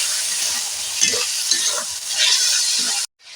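Spices with ground coriander and coriander powder frying in a pan with a splash of water, a steady loud sizzle broken by soft scraping stir strokes, cutting off abruptly near the end.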